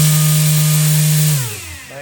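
A 9-inch four-bladed folding propeller spun at full thrust by an RC motor gives a loud, steady high-pitched whine with strong harmonics, then winds down in pitch over its final half second as it slows. No voices.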